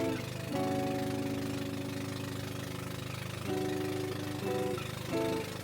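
A loud, steady motorbike engine drones continuously up close on Siargao island, with a few surges in pitch as it revs.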